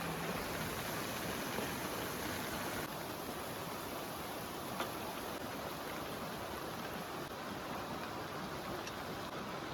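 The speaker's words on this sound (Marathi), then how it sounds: "पाऊस भरपूर पडतोय" Heavy rain pours down in a steady, dense hiss, unbroken throughout and fairly soft, with no voices.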